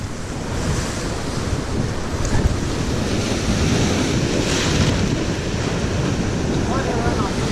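Ocean waves splash against the shore during a fishing outing, a loud, close, continuous surf wash with wind buffeting the microphone and occasional heavier surges.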